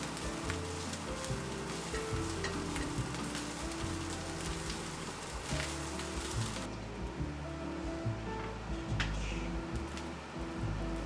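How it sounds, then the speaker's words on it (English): Rice fries in a hot cast iron pan with a dense, steady crackling hiss resembling rain, continuous and fairly close for the whole stretch. "so I could actually fry the rice"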